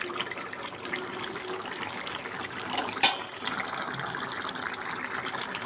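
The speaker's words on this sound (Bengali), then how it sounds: "তো এবার আমি এটা একটা পাত্রে ঢেলে রাখবো।" Bengali fish curry with bottle gourd being poured into a bowl, a steady soft liquid gush with a sharper splash near the middle, close and moderately quiet.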